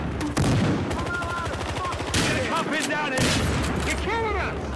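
Continuous gunfire rattles in Battlefield Hardline, with rapid automatic bursts and heavier booming shots layered together, loud and close, over busy in-game chatter and noise.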